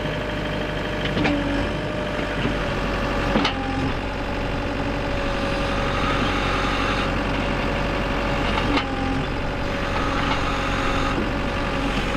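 A Case TR320 skid steer loader's diesel engine runs steadily at idle, a constant close rumble with a few faint clunks from the controls being worked, no voices.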